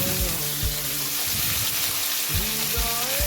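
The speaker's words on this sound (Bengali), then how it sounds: "এরপর আমি গরম তেলে শুকনো লঙ্কা, এলাইচি আর দারচিনি দিয়ে দিয়েছি।" Dry chilies, cardamom and cinnamon crackle in hot oil in a pan. A soft sizzle runs under repeated tonal whines that rise and fall, and no one speaks.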